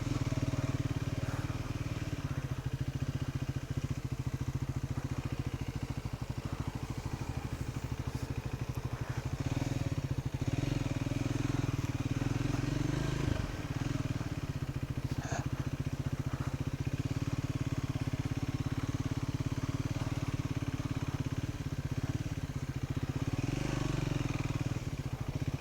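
A Triumph Scrambler 400X is ridden on a beach road, giving a continuous engine drone mixed with wind rush that stays loud and steady throughout, with a brief dip near the middle.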